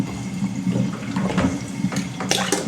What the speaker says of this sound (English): So we're gonna empty out the water, which is now pretty hot.